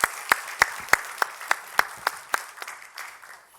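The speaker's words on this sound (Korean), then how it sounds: "다시 한번 우리 박수로 감사를 표현하도록 하겠습니다" A small church gathering at a combined all-generations worship service claps in thanks, a sparse run of about a dozen distinct, fairly close claps at a steady rhythm that soften and trail away.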